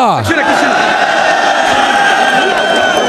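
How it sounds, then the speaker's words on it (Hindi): A large crowd at a political rally in Dera Ismail Khan cheers and shouts together, a loud, continuous roar of voices with whoops and bellows that stays dense throughout. "मलके के मालिक के लिए भरपूर तालियां।"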